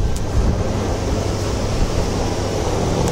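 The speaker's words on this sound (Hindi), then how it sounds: "हवा चल रहा है एकदम मस्त टाइप" Wind gusting outdoors at a restaurant seating area, a steady loud broadband rush with low rumbling buffets against the microphone, constant throughout with no speech.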